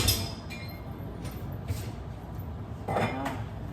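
Metal cooking pot for rice being handled in a home kitchen, with a few soft clinks and knocks, close but fairly quiet over low room noise.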